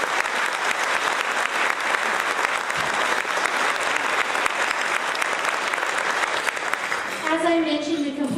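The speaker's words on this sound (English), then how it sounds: "Let's give a huge round of applause to all of our Century Club members here tonight" Sustained applause from a gala audience honoring Century Club members fills the room, steady and dense for about seven seconds before thinning out as a voice begins to speak.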